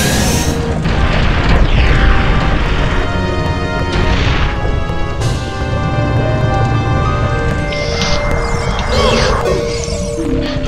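A boss in Ocarina of Time bursts into flames with heavy booming crashes and rushing whooshes, loud and layered over a musical backdrop, several impacts spaced across the span.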